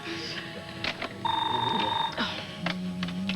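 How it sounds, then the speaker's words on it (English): A home telephone rings once in a steady electronic trill lasting about a second, heard indoors amid household clatter and background voices. "Harley, you have a phone call?"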